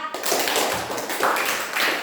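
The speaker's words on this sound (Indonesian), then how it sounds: "tepuk tangan untuk kelompok 4" A classroom group receives applause, a steady dense patter of hand claps from many pupils filling the whole two seconds at moderate loudness.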